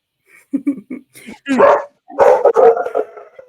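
A dog barks several times indoors, starting with short yips and moving to longer, louder barks and a howl-like bark, close to the listener and with nobody talking.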